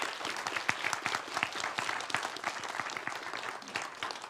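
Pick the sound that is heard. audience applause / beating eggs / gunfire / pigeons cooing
audience applause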